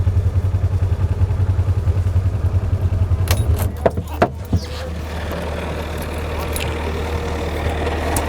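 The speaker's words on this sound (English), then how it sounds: "On my car keys, I have a key." Metal keys jangle in a brief cluster of bright clinks, first over a low idling engine rumble, then against a quieter background.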